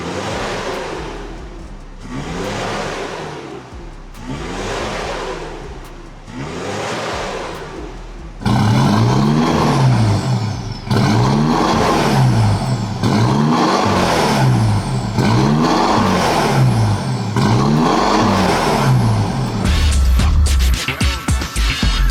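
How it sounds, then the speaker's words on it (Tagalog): An Isuzu D-Max with a full exhaust, Spitfire Thunder muffler and Spitfire dual black tips revs repeatedly, with several rising and falling blips and then a louder, deeper run of rhythmic revs close to the tailpipe. "Tapos ito, nakapalit na ng full exhaust using our products, Spitfire Thunder muffler, tsaka Spitfire tips."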